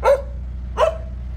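A puppy gives two sharp, high barks about three-quarters of a second apart, close and loud, each ending in a short whiny tail, with no talking.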